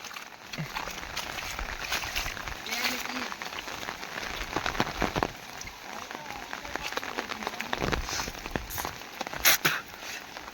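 Heavy monsoon rain pours steadily onto waterlogged cotton fields in the Sonai area of Maharashtra, a dense hiss with scattered louder patters, while faint voices come through underneath.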